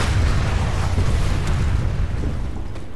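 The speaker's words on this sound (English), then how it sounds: "Grenade, watch this out." A grenade explodes in the video game Planetside 2: a loud, deep rumbling blast that fills the whole stretch with heavy, sustained low-end noise and no voices.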